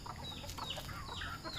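A couple of gamefowl clucks sound close by over a low, steady background hiss, brief and without any voices.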